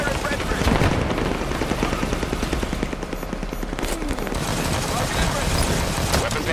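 Enemy gunfire in the Halo 5 video game rattles in rapid continuous bursts, dense and loud against a roaring battle background.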